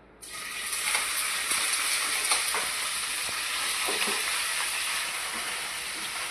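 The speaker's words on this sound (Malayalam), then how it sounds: "ഇനി നമുക്കിതൊന്ന് പനീരൊന്ന് ഇട്ട് കൊടുക്കാം, ഒന്ന് ചൂടാകാം." Paneer cubes drop into hot coconut oil and sizzle loudly, a dense, continuous frying hiss with a few small pops and spatters, close up and with no talking.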